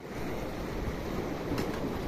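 Large ocean waves at a river mouth on the coast give a continuous broad wash of surf mixed with wind rumbling against the microphone, with no voices.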